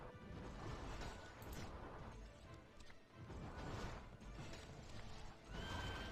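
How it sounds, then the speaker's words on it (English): Flaming horses charge in the video game Motto Immortal, with loud whinnies and neighs rising over pounding, clip-clopping hooves and crashing impacts in a dense, chaotic rush. "We got those flaming horses that were just flying after me."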